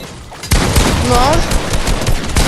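Rapid bursts of video game gunfire, loud and close, with a sharp onset and sustained shots under a player's voice.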